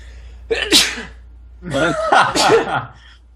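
A person sneezes twice in a row: a quick first sneeze, then a longer, louder burst about a second later, close and clear.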